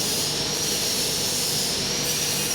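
A 15 kg capacity coffee roasting machine runs with a steady, loud, broadband hiss and roar, constant throughout with no talking.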